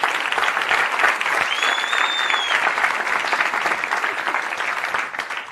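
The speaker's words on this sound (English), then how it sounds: "Give Louisa a round of applause." Dense, loud crowd applause fills the whole stretch for a volunteer named Louisa called up in front of an audience, with a brief whistle-like tone rising over it midway.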